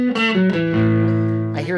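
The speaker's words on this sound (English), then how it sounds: "I'm blending in a little bit of clean and overdrive." Telecaster electric guitar played through a compressor, overdrive and boost pedal with some clean signal blended in, giving sustained, slightly gritty notes and a held chord that rings out loud and close.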